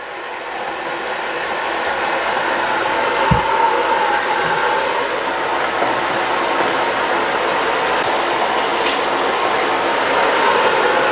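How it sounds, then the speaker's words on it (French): Hot water is poured into canning jars fitted with rings during holiday batch cooking, making a steady, continuous splashing hiss that runs throughout without a break and with no voices. "Et ensuite, ici, ça, ce sont les rings. Et je verse de l'eau chaude."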